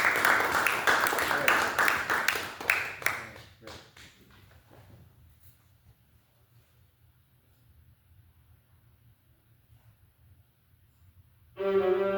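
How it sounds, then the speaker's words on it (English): A small audience claps along for a viola player in a masterclass, a rhythmic patter of hands that thins out and stops, followed by near silence before a brief burst of sound at the end. "go for it. We're all clapping."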